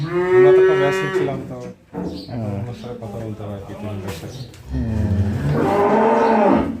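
Dairy cows on a farm in Bangladesh give loud, close, drawn-out moos, one at the start and another near the end. People talk in between.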